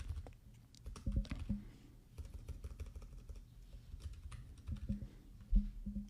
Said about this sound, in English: So I can type any name.